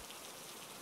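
Steady rain falling, a continuous soft hiss of drops on a surface that stays even and close throughout, with no voices.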